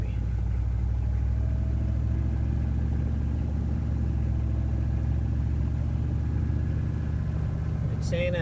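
A 6.5 turbo diesel truck engine with a failing PMD, steady low diesel rumble and clatter as the truck pulls away, continuous and close, with a brief sharp noise at the end.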